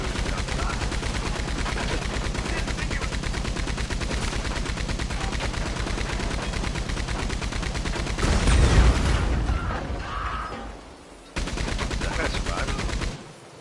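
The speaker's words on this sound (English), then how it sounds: "They are shooting you." Rapid, continuous gunfire in the online game Red Dead Online, close and loud automatic bursts rattling steadily, then a heavier blast and a brief lull before firing resumes, with a player's voice talking over it.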